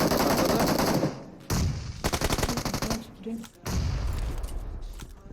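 Rapid automatic gunfire in the mobile battle game PUBG Mobile, loud bursts of rattling shots broken by short pauses, with players talking over the shooting.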